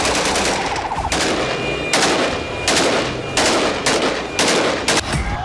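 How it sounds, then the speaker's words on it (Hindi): Celebratory AK-47 gunfire in the streets of Aleppo, Syria, as rebels mark a victory: several loud, close bursts of rapid automatic fire with short pauses between them, and no talk. "सीरियाई विद्रोही सड़कों पर खुलेआम AK-47 से गोलियां दागकर मना रहे हैं"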